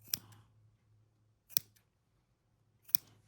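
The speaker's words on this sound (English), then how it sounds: "lay them like that and go snip, snip, snip, turn it and do that" Three crisp, close snips of scissors cutting quilt fabric triangles, evenly spaced about a second and a half apart over near silence.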